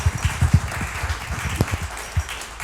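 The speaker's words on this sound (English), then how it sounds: "Let's give our panel a round of applause." An audience at a downtown Minneapolis storytelling event gives a panel a short round of applause, with scattered, moderately faint clapping filling a room.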